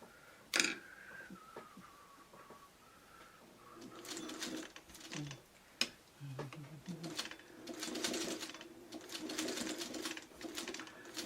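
A sewing machine stitching fabric for a traditional Dresden quilt block, a fast whirring run of needle strokes that starts and stops in bursts, close and soft, with a person speaking quietly between runs.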